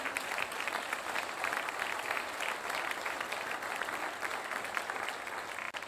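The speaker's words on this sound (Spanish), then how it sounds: "Soltamos un fuerte aplauso por esa palabra." A church congregation gives a loud, sustained round of applause, many hands clapping in a steady dense roar without talk, fading slightly at the very end.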